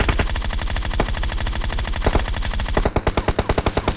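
Rapid automatic gunfire from a video game rattles in dense, even bursts, loud and close, turning into a sharper, heavier string of shots near the end.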